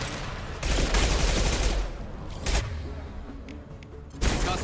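A Concussive Shot power fires in Mass Effect 2 as a loud concussive blast, followed by bursts of gunfire and booming impacts with sharp transients scattered throughout, over a busy battle din.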